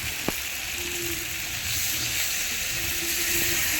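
Sautéed snails sizzle steadily in a hot pan after a little water is poured in, a loud continuous hiss that grows slightly stronger partway through, with a few faint clinks under it.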